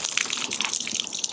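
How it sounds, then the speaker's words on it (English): Rinse water sheets off the paint of a 2017 C7 Corvette Stingray coated with Gyeon Wet Coat during a basic wash, making a steady close splashing gush with no voices. "You guys can see how the water is just sheeting off the car."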